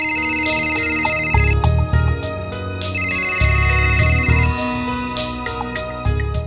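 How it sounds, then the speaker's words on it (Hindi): A phone ringtone plays loudly, its bright melodic tone sounding in two repeated bursts over a low background hum, with no talking. "फिर से सुंदर जी का फोन।"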